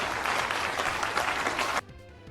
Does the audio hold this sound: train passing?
no